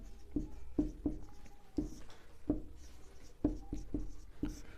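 Chalk or pen writing during a Hindi-language physics lesson on light reflection, with repeated short taps and scratchy strokes in an irregular rhythm, close and moderately loud, no speech.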